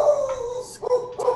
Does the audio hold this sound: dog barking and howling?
yes